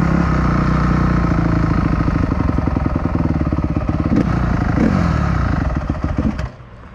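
A 450cc motorcycle engine chugs and revs up close, its rough rhythmic pulsing rising and falling before dropping away at the end.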